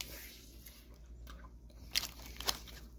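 Someone chews a roughly 30-year-old 1987 Topps stick of bubble gum that turns dry and powdery in the mouth: soft, close mouth noises with two brief crisp clicks, no talking.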